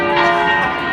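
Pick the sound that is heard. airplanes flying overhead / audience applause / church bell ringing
church bell ringing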